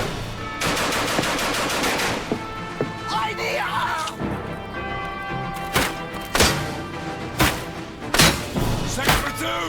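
Sharp bursts of gunfire and heavy thuds from a war video game, loud and irregular, with several sharp reports clustered in the second half over a steady battle din.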